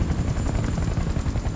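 Loud, steady rotor thumping from a helicopter in the Battlefield: Bad Company 2 campaign, a dense whirring chop that fills the whole moment, close and overhead with no talk over it.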